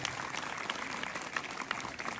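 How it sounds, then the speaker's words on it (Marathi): Applause for a woman at a Marathi home game show event, a dense, fairly faint patter of many hands clapping steadily for a couple of seconds. "एकदा जोरात टाळ्या ताईसाठी वाजल्या पाहिजे"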